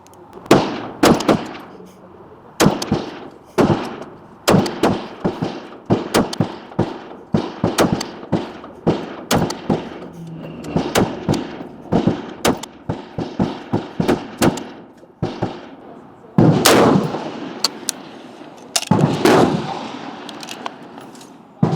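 Rifle shots from an Australian Automatic Arms SAC with a 10.5-inch barrel firing Frontier bulk ammunition at a 300 m range: a long series of loud, sharp, evenly spaced cracks, with a few closer-spaced pairs near the end.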